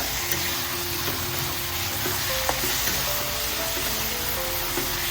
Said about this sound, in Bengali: তারপরে একটু জল দিয়ে দিয়ে ভেজে নিচ্ছি।